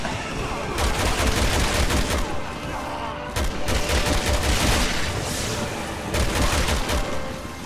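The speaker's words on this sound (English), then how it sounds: "Machine gun." Sustained machine gun fire in Resident Evil 6 rattles in dense, loud bursts with brief gaps between volleys, mixed with booming impacts from the game's action.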